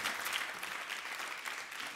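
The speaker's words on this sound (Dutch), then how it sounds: "Ik wil jullie ook vragen in de zaal om hard te klappen." Audience in a hall clapping loudly and steadily, a dense continuous wash of applause filling the whole moment with no voices on top.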